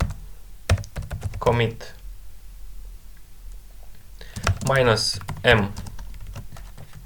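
Keys clatter on a computer keyboard as a git commit command is typed into an Ubuntu server terminal, a quick run of close, crisp taps broken by pauses, with someone speaking over part of it.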